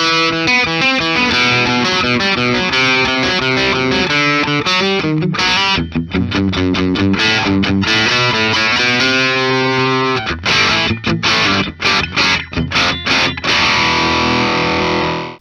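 A heavily distorted nylon-string Nylocaster electric guitar plays loud, sustained chords and riffs, with choppy stops and restarts in the second half; no voices.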